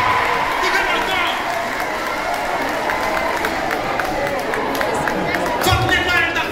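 A church congregation applauds in a steady, dense wash of clapping that runs the whole time, with crowd voices and talk mixed in.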